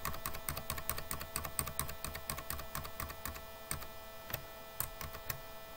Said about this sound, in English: go on typing.